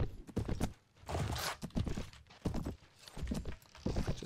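Horse hooves clip-clopping in the video game Mount and Blade: Warband, a steady run of close, distinct hoofbeats with no talking.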